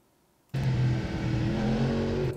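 A motorcycle on the Pau-Arnos circuit accelerates out of a corner, its engine note bursting in suddenly and holding a steady, loud drone close by for about two seconds before cutting off.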